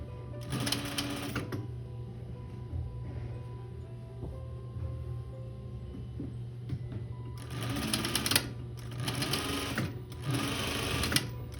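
A sewing machine stitches a blanket coat seam in three bursts of rapid, even whirring, one short run early and two longer runs later, each close and clear over a low steady hum.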